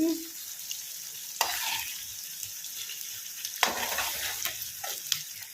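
Ginger garlic paste frying in a pan for homemade chicken pickle while being stirred, a low hiss of sizzling punctuated by several distinct scraping strokes of the spoon, close and alone.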